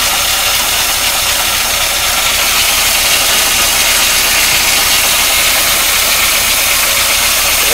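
A 1953 Oldsmobile Rocket Super 88 barn-find engine runs steadily at idle, a continuous close mechanical rumble with a rough, slightly knocking texture and a faint whine from the water pump area.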